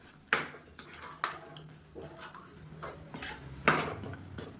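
Spoon scraping and clinking against a metal pot while organic jaggery is stirred in for a sweet rice offering, with a few sharp knocks and softer scraping in between, close and moderately loud, no voices.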